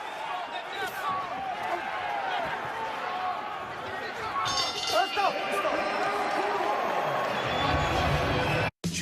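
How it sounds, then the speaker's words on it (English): A boxing arena crowd in Melbourne reacts to a punch during an undisputed title fight, a dense roar of voices with cheers swelling midway, loud and continuous, before cutting off abruptly near the end. "And you hear the reaction from the crowd."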